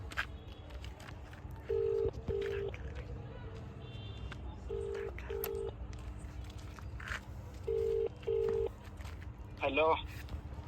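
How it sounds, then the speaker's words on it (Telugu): Touch-tone keypad beeps from a mobile phone dial a number in steady pairs, followed by a rising ringback-like chirp, all over a busy outdoor street background near a food court. "ఒక్క నిమిషం సన్యానికి ఫోన్ చేద్దాం"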